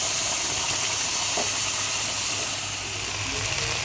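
Ground gourd leaf paste hits hot mustard oil already seasoned with salt and turmeric, giving a steady, close hiss and sizzle that stays broad and even throughout with no talk.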